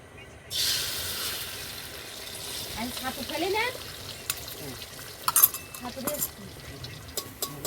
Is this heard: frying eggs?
yes